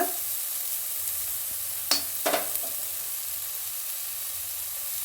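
Chopped capsicum with garam masala fries in a pan with a soft, steady sizzle, broken by a couple of brief scraping stirs near the middle, with no talk.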